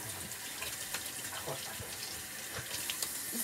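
Warm water runs steadily from a bathroom tap into a sink for face washing, a continuous close hiss with small splashes and no talking.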